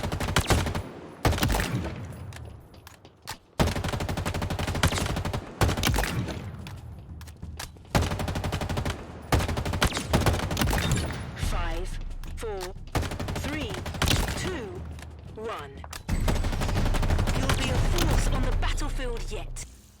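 In Halo Infinite, an automatic rifle with a very fast fire rate rattles off rapid bursts amid other game sounds, loud and close, interrupted by brief gaps and accompanied by a talking voice.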